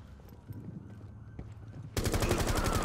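Gunfire in the video game Rainbow Six: scattered single shots, then a loud, rapid automatic burst that runs steadily to the end, close and with no talk over it.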